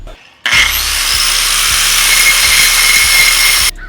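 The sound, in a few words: angle grinder with metal grinding wheel grinding down car part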